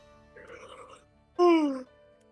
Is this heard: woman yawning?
yes